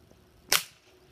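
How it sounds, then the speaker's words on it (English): A single sharp crack from a Sportsman 900 air rifle fires at rolls, one loud short shot with a quick decay against an otherwise quiet background. "The first thing I'm going to be shooting are the rolls."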